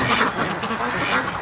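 Domestic ducks quack close by in a short run of harsh, overlapping calls, a few loud squawks in quick succession.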